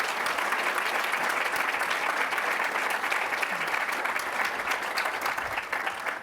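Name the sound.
audience applause for a panel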